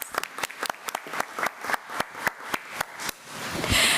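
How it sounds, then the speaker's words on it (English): A school district committee meeting audience gives a school nurse a round of applause. Sparse, distinct claps in an irregular rhythm are followed by a brief rustling swell at the end. "Let's give her another round of applause."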